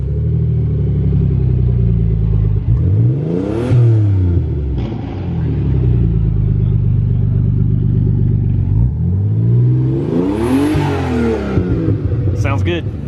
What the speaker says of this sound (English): Gonna start the Aristo up